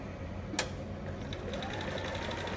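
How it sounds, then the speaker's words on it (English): A sewing machine runs a straight stitch with a back stitch while sewing a romper, giving a steady close mechanical whir after a single sharp click, with no talking. "I'm gonna straight stitch, back stitch to secure it"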